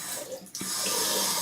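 Water from a tap rinsing a Merkur 30C razor, a steady close splashing rush that briefly dips and then flows on strongly, with no talking.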